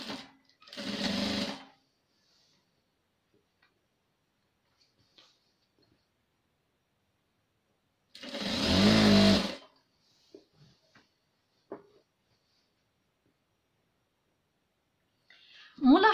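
An electric sewing machine stitches a fabric table cover in two separate runs of fast, even whirring, heard near and loud, with near silence and a few faint handling clicks between them.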